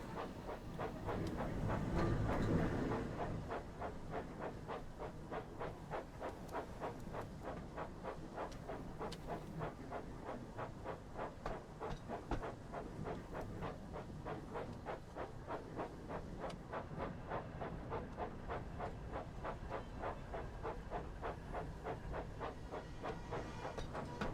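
A steam locomotive shunts out of a heritage railway station with a steady chugging and clanking roll. A louder hissing burst comes early, then a continuous mid-distance rumble of wheels and exhaust beats with no speech.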